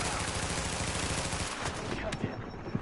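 Automatic weapons fire in the shooter game The Division as a rapid, sustained rattle of shots, loud and near, thinning into scattered sharp shots near the end, with game voices faintly underneath.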